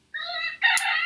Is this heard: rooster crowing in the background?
yes